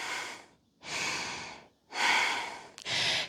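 Three slow, deep breaths during a hatha yoga session outdoors in the mountains, each a long airy inhale or exhale with quiet pauses between, close and clear with no talking.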